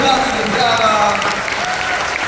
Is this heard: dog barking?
no